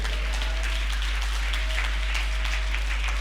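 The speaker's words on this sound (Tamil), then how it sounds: "நல்லா கைத்தட்டு." A church congregation claps hands during a Sunday service, steady fairly quiet rhythmic clapping over a constant low hum, with sharper claps surfacing at intervals.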